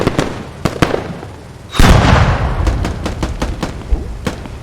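Tank gunfire in the video game Squad: sharp shots pop amid battlefield noise, then a heavy booming blast rolls out, followed by scattered further gunfire.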